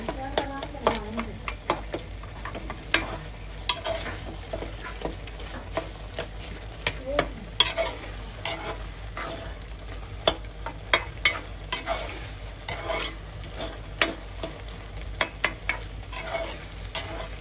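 Eggplant curry simmering down with coconut milk in a pan and being mashed, a constant soft sizzle with frequent sharp ticks and taps of a utensil against the pan.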